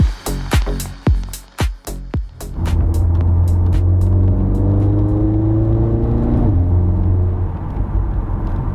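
A Mercedes GLA 45S SUV with a four-cylinder engine: a series of sharp revving bursts and pops, then a steady droning engine hum while driving, rising and shifting in pitch.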